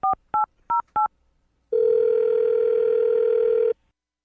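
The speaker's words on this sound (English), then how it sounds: "I'm going to dial the phone number right now, get her on the phone" Four quick two-tone telephone keypad beeps followed by a steady dial-type tone of about two seconds, clear and close, with no talking.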